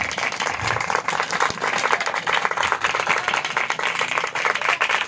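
A congregation at a Hindi-Urdu church service breaks into dense, lively applause and clapping that stays full and steady throughout, with faint voices mixed into the crowd.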